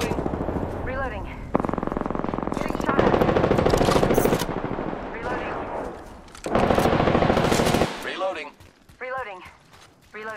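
Bursts of automatic gunfire in Apex Legends combat, rapid loud volleys in several runs separated by short pauses, with a voice speaking over the shooting.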